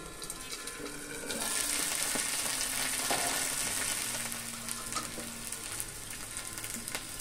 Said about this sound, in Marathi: 5 मिनिटं आपण झाकण ठेवणार आहोत, जेणेकरून ती कापं शिजली पाहिजे।